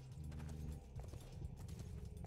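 Horse hooves in Sacred 2 clip-clop at a steady trot while a character rides, rhythmic and even, heard faintly under low background music.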